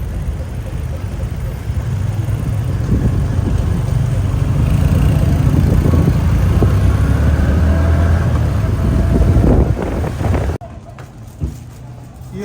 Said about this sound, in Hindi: इस वक्त मैं मोटर बाइक रेंट करके जा रहा हूँ अपनी सैर पर।